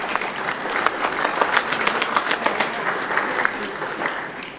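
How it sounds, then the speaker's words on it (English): Band parents in the audience at a high school honor band concert clap in sustained, crisp applause, with individual hand claps standing out, while faint voices murmur underneath. "Give yourselves a round of applause, please."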